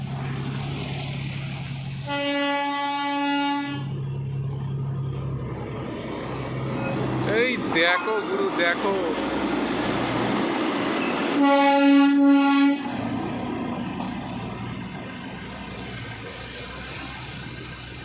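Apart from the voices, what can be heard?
Darjeeling toy train passing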